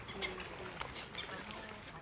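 Pigeons and other birds gathering for food outdoors, with a bird call near the start and short flutters and coos over steady ambient noise.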